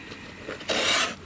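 Card stock being trimmed for a craft card, a short soft rasp of a blade sliding through paper that swells louder near the end, close and quiet with no talking.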